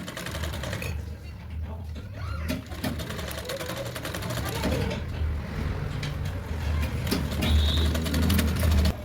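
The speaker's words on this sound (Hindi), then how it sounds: "हल्के हाथों से प्रेस करते हुए फिनिशिंग देते हुए हम इसको सिलेंगे।" Sewing machine stitching the folded edge of a blouse, a steady close mechanical whirr and rattle running continuously throughout with slight swells in speed, no talking.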